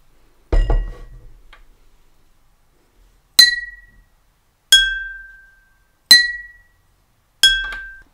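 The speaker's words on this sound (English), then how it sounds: "Here are a few songs that I played with my glasses." Water glasses are struck one at a time, giving four bright, ringing clinks with clear pitched tones that die away, after an earlier clatter.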